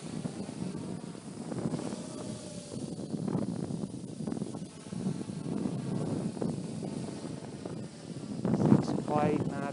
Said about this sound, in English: the wind's really blowing this